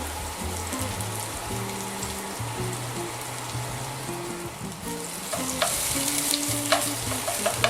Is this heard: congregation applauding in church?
no